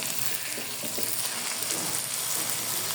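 Chicken pieces frying with spices in mustard oil give a dense, continuous hissing sizzle, loud and close, steady throughout with faint stirring underneath and no voices.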